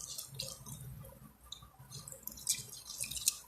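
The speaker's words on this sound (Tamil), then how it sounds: "இப்போ வந்து நம்ம வாஷ் பண்ணி அதில் எடுத்து போட்டுடலாம்" Soaked rice being washed in water in a home kitchen, close wet sloshing, dripping and light clicking of grains against the vessel, irregular and fairly quiet, with no talk.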